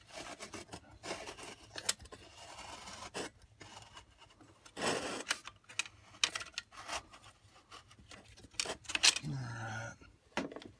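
Close rubbing and scraping of metal parts as the wick assembly of a Perfection oil heater is screwed into place, irregular rasping twists with short pauses and a brief voice near the end.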